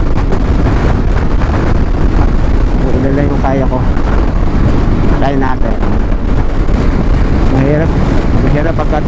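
Strong, steady wind roar buffets the microphone while riding a Yamaha motorcycle at speed through the Kaybiang Tunnel on a windy day, with someone talking over the noise throughout.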